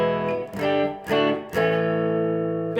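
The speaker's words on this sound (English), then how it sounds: "So let's start with the tube screamer." Electric guitar played through a Tube Screamer overdrive pedal, four strummed chords ringing with warm, harmonically rich drive, each struck cleanly and left to sustain, the last held long, with no talking.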